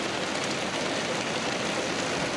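Steady rain after a night of thunderstorms in Emerald, Australia, falling as a continuous, even hiss of dense patter with no let-up or voices.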